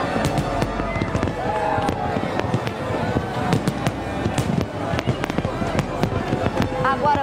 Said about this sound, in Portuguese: São 16 minutos de queima de fogos, a maior da história do Réveillon de Copacabana.